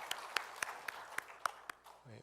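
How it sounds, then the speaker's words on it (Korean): Members of a congregation at a Sunday church service clap in a slow, steady rhythm, roughly eight sharp claps spaced evenly, fairly quiet, ending in a brief murmur. "우리 하나님께 박수로 함께 영광 올려드리겠습니다"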